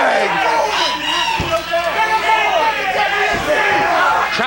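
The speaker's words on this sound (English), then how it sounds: "Crowd in the Sportatorium. Hey, they're fit to be tied right now." Wrestling crowd in the Sportatorium yelling and jeering in a loud, agitated roar, with shouts rising and overlapping throughout, under excited ringside commentary.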